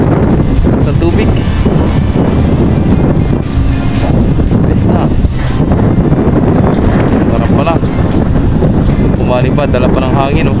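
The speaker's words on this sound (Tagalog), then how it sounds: "dala pa ng hangin oh. Taas ng hangin." Strong wind buffets the microphone in a steady, loud roar as a ship comes in to dock, with water splashing and people talking in Tagalog over it throughout.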